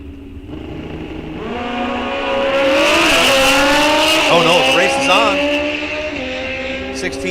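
Drag racing at Rock Falls Raceway during a bracket series, with a loud, steady engine roar building and rising in pitch as a racing machine launches down the strip, close and dominant throughout.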